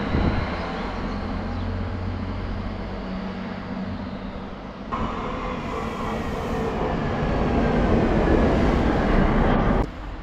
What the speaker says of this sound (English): This little train thing of theirs reminds me of a bus on railway tracks with a diesel engine.